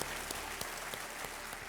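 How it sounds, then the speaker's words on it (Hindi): Studio audience on a televised quiz show clapping for a winning contestant, a steady dense wash of applause that holds evenly throughout without speech. "तालियां बजाएं इनके लिए"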